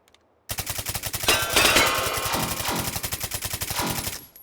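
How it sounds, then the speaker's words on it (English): A Jeepard 1995 submachine gun chambered in 9x19 Parabellum fires in a video game: one long, rapid automatic burst of sharp, evenly spaced shots, close and loud, after a moment of silence, with no talking. "Then we have the Jeepard 1995 shooting 9x19 Parabellum."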